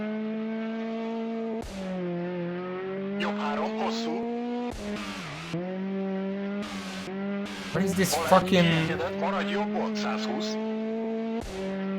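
A whining rally-car engine in the video game Richard Burns Rally drones steadily, its pitch rising and dipping with revs and a brief skid, while someone talks loudly over it.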